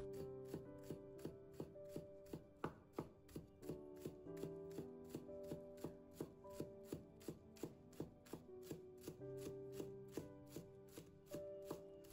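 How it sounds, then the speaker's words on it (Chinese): A knife chops scallion whites on a board in a quick, even run of sharp taps, close and clear with no speech over it. "葱白切好后再切碎。"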